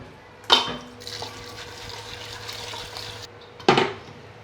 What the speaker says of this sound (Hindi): इसमें पानी डालना है